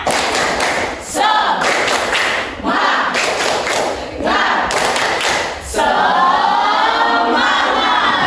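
Students in a classroom perform a rhythmic spirit-clap routine, bursts of patterned group clapping with thuds and pauses between phrases, ending in a sustained burst of clapping and crowd noise.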